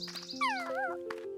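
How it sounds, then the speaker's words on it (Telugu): A hungry dog gives short yipping, whimpering cries with rising and falling pitch, close and fairly loud over a steady tonal background. "ఒకప్పుడు ఆకలితో ఉన్న కుక్క ఆహారం కోసం వెతుకుతోంది."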